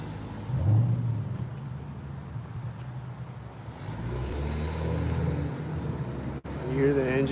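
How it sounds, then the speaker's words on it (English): A car engine idles and rumbles outdoors beside a parked car, a steady low drone that swells mid-clip, with people talking over it throughout. "You hear the engine sound?"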